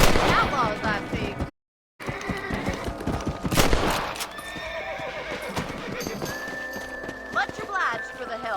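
Horses in Red Dead Redemption on Xbox One, loud whinnies and clip-clopping hooves mixed with bursts of gunfire, a brief dropout of silence early on, and voices talking over parts of it.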